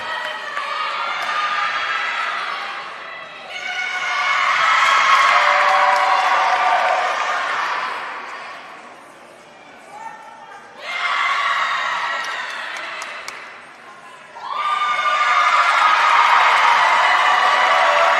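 Crowd at a Mountain East semifinal acrobatics meet between Glenville State and Frostburg State bursts into loud cheering and applause in two long swells, with whoops, separated by a brief lull.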